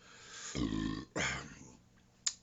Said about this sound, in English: Good old burp test is awesome.